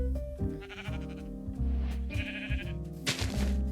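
Sheep in the Minecraft video game bleat several times in quick succession over a steady musical background, with no voices.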